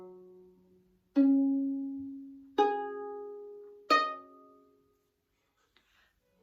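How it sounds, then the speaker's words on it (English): A Baroque violin plucked pizzicato: three clear notes in slow succession, each ringing briefly before decaying, played alone with no talking. "This technique is called pizzicato and sounds like this."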